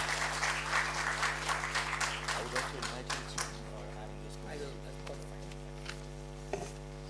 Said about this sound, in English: Good round of applause, and let's welcome Kingshuk Banerjee on stage.